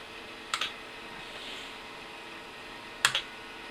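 A few sharp key presses on an IBM PC/XT Model 5160 computer keyboard, two brief clusters of clicks about two and a half seconds apart, quiet and close, with a faint hum between them.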